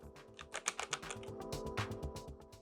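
Typing on a Royal Kludge RK84 mechanical keyboard with factory pre-lubed switches, a quick run of crisp, smooth keystrokes with uneven rhythm, close and fairly quiet.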